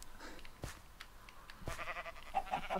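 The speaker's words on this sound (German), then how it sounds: "Dann schnibbeln wir mal an den Schafen rum." Sheep being sheared in Minecraft give a few short bleats alongside sharp clicks and snipping sounds, fairly quiet and spaced apart.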